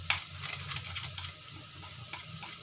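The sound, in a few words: onions frying with red chili and turmeric being stirred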